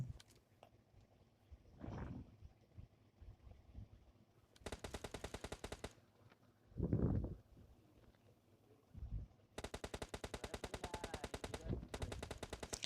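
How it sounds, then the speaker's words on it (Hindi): Rapid automatic gunfire from PUBG Mobile Lite erupts in two loud, sustained bursts, separated by quieter stretches with a couple of muffled whooshing movements. "और तभी मैं निकालता हूँ अपनी AWM और उसके पीक करते ही मैं उसका पिकासो बना जाता हूँ।"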